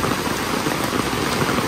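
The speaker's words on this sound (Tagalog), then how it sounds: "Grabe tong ulan na to." Heavy typhoon rain in a rural Philippine province pours as a dense, steady, loud hiss of drops, constant throughout with no pauses and no voices.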